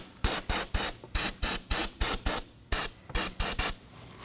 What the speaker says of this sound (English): I'm going to clean the surrounding area with some brake cleaner and a rag